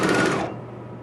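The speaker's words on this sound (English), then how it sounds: "start serging." A serger sewing machine runs in a dense, loud mechanical whir as it stitches and trims fabric edges, then stops abruptly partway through, leaving a quiet room tone.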